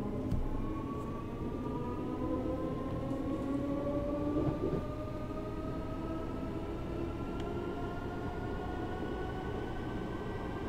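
Train in Train Simulator 2018 on the London Liverpool Street to Shenfield line, a continuous rumble of wheels and motor with a slowly rising whine as it gathers speed, steady and close, with no talk.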